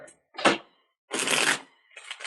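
A deck of playing cards is shuffled in three separate bursts of crisp, riffling flutter, close up, with silent pauses between them.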